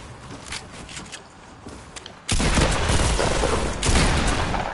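Rapid bursts of gunfire in the video game Fortnite, quieter shots at first, then a loud, dense barrage that carries on steadily to the end.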